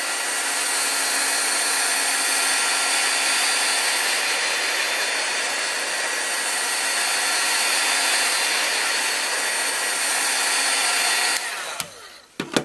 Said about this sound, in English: And so I'm going to go ahead and apply heat now.